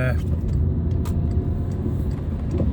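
Car engine idling steadily just after a jump start, a low continuous rumble with a few faint clicks and knocks over it, close by and without clear speech.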